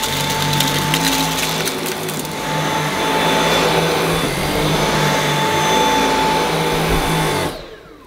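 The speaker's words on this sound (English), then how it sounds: "So I'm going to have to attach the wand and the main motorized floor tool and pick it all up." A Dyson V8 cordless vacuum with its wand and motorized floor tool runs on carpet, giving a steady, loud motor whine with a bright whistling tone. It holds for about seven seconds, then cuts off abruptly.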